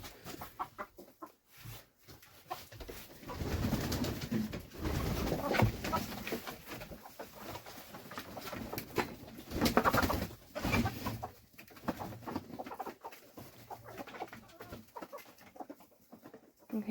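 Chickens on a snowy homestead morning cluck and coo in a busy, fairly close flock, their calls rising and falling in bursts as they come out of the coop.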